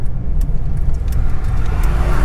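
A 2003 Ford Crown Victoria Police Interceptor K-9 unit drives along with a loud, steady engine drone and road roar filling the whole stretch.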